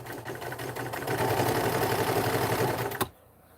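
A 1943 Montgomery Ward sewing machine runs a long straight stitch, its steady mechanical whir and rapid needle clatter loud and continuous before stopping abruptly with a final clunk.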